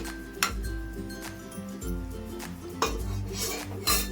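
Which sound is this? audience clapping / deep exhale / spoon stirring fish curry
spoon stirring fish curry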